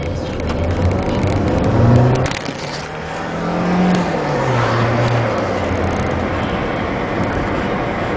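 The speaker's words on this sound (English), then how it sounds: "give it a few revs to try and flush through any air bubbles" A 2002 Toyota Corolla engine is revved after a coolant change, with a loud rise and fall of engine pitch early on, then a steadier running drone heard close up without talk.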